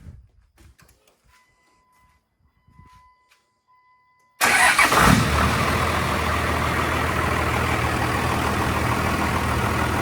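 A turbocharged car engine cranks and catches after a quiet pause, then settles into a steady, loud, close idle with a continuous low rumble.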